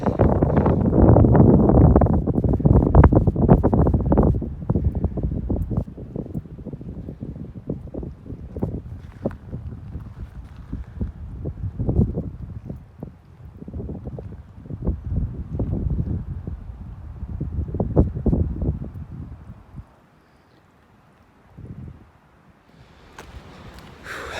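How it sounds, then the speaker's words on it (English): Gusty wind buffets the microphone in low rumbling bursts outdoors after a run in a Canadian January, strongest at the start, easing toward the end with a brief quiet lull. "A little windy out here. Hopefully you guys can hear me okay."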